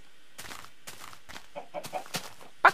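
Chicken clucking in the Minecraft video game, several short clucks in an uneven series, fairly close and clear with a louder final cluck.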